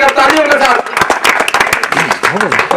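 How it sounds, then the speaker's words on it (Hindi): Guests at a Hindi welcome ceremony clap to greet an invited speaker: close, uneven bursts of hand claps mixed with voices talking over them throughout the short stretch. "स्वागत कीजिए हमारे पांडे जी का तालियों के साथ।"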